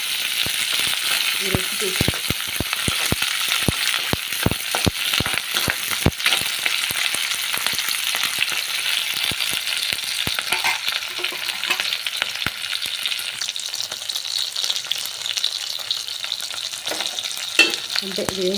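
Green chilies and curry leaves fry in a pan for mint rice, a loud continuous sizzle broken by many quick sharp clatters of stirring, with a brief spoken phrase near the start.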